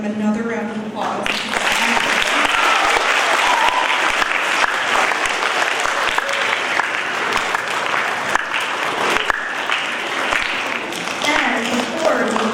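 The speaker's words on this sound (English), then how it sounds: "We're going to give them another round of applause." Audience applause for performers at a school assembly, loud, sustained clapping from a full room that swells in after a voice and rolls on evenly with scattered sharper claps.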